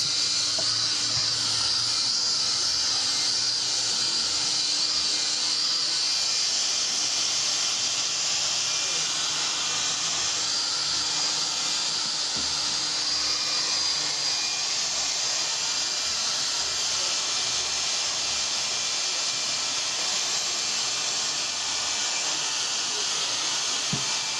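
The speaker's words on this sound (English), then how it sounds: "So now I use my hand dryer." A hand dryer blows a steady, loud hiss to dry a glued sheet during handmade shoemaking in a Cameroonian workshop, running continuously and close by with little change throughout.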